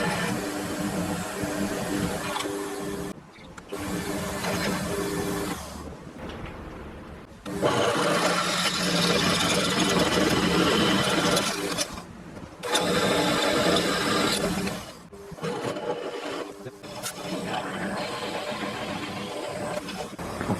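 A metal lathe drills a part in a home workshop with a steady, broadband grinding whir. It runs in long stretches broken by several short stops and restarts, loud and close with no talk.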